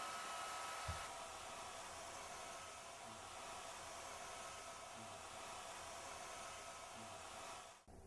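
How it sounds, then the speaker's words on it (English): A heat gun blows with a steady, even whoosh of air while heating protective film on stainless steel appliances, held constant throughout before cutting off abruptly at the very end. "A heat gun can also be used for this"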